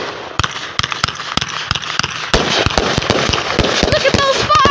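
Fourth of July fireworks bursting in a rapid, irregular string of sharp cracks and pops, growing denser and louder partway through, with crackling between blasts.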